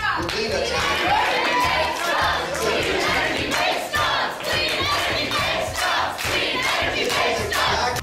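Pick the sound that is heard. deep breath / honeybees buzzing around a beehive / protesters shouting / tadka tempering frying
protesters shouting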